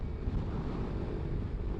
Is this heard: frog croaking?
no